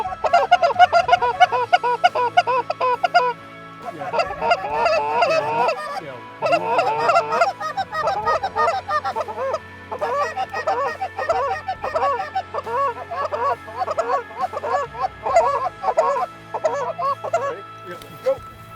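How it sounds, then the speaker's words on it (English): Large Canada geese honking during a goose hunt, a loud dense chorus of repeated honks from a flock, continuous with short gaps, some birds nearer and others farther off. "Those are the big geese, and they were all little geese above them."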